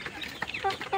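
Chickens on a poultry farm give a few short clucks in quick succession, close and moderately loud.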